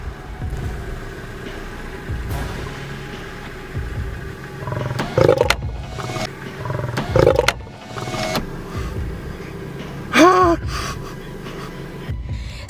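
A large male lion roars close to a stopped tourist car on safari, a few deep throaty bursts spaced over several seconds, with the idling car and faint movement audible around them.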